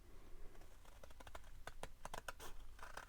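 Scissors snip through card stock for a handmade greeting card, a run of short crisp cuts in an uneven rhythm, close and fairly quiet with no talking.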